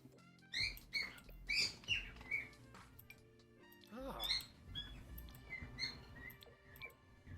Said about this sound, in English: Sorry, my parrot is really excited right now,